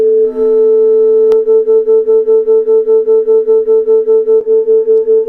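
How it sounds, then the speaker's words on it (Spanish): Two steady pure sine tones a few hertz apart sound together, their combined loudness swelling and fading in a regular beating pulse about five times per second, with a couple of brief clicks along the way. "se percibe lo que en física se llama un batido, que es una variación de la intensidad del sonido"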